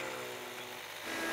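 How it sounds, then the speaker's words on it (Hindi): A cartoon chainsaw starts up to cut down a tree, giving a steady, loud, buzzing mechanical drone that holds throughout and swells slightly toward the end, with no voices. "आरी को चालू करना ही भूल गया मैं तो।"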